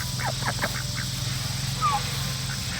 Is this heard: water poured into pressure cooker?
no